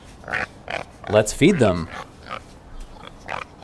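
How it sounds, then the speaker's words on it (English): Hungry farm pigs oink and grunt in short bursts, with one louder squealing grunt near the middle, mixed in among brief spoken words. "The pigs are hungry."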